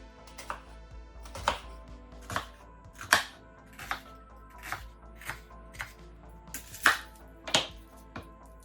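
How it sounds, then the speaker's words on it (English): A knife chops through an onion on a cutting board in about a dozen crisp, uneven strikes, fairly close and moderately loud. Each cut is spaced by short pauses and there is no talk. "And then you'll chop through everything at the end."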